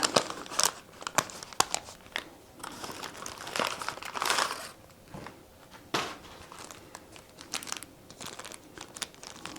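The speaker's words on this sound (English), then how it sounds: "Let's take this one out of the paper wrapper." Paper wrapper crinkling and tearing as a small African violet plant is pulled out, a quiet close series of irregular crackles and rustles with no talk.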